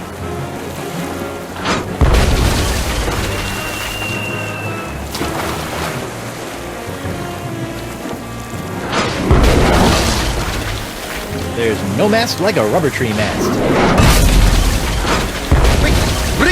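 Cannons fire aboard a ship in the PC adventure game Tales of Monkey Island, several booming blasts over wind and rolling sea noise, with characters talking between them.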